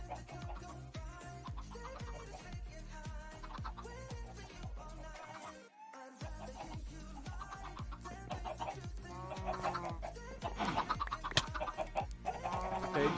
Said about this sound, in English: chickens are still mad at me for whatever reason